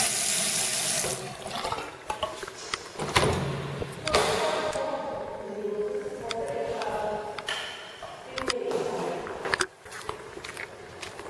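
Water runs from a tap in a newly built house, a steady splashing hiss with brief interruptions and small knocks around it. No voices are heard.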